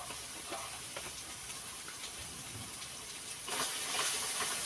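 Chili powder, turmeric and spices sizzling in hot oil in a pan, a steady close hiss that grows louder and brighter near the end.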